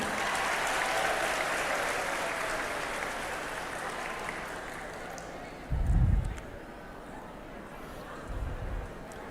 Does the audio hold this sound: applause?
yes